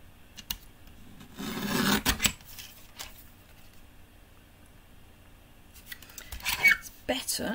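Paper for a handmade card is trimmed on a craft trimmer, giving a raspy sliding cut around two seconds and another burst near the end, with quieter handling sounds between.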